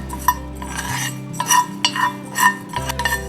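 Sesame seeds roasting in a pan, stirred with a metal spoon in quick scraping strokes and clinks that come in bursts over a low kitchen hum.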